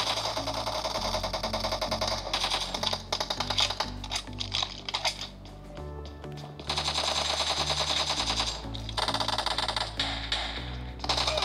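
Rapid automatic gunfire from PUBG played on a smartphone with a gamepad, loud repeated bursts with short pauses and a deep low hum beneath, game music and effects mixed in, no talk.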